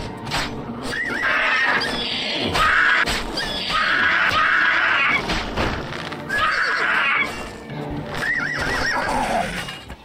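A horse neighs and whinnies repeatedly in The Elder Scrolls IV: Oblivion, loud and close, over a busy game soundscape with hoof clatter and scuffling, and no one talking.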